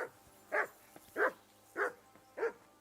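A dog named Mutt in Kingdom Come: Deliverance II barks five times at an even, spaced rhythm, each bark clear and moderately close over quiet background.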